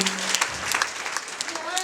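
Church congregation clapping for Jesus, a moderate patter of applause with scattered sharp claps, mixed with voices speaking over it.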